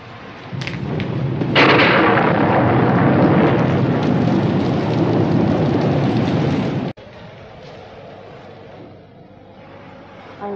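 Loud thunderstorm with heavy rain and a rolling thunder rumble that swells early, then cuts abruptly to quieter steady rainfall.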